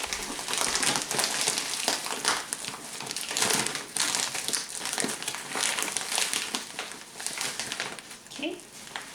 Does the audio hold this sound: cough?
no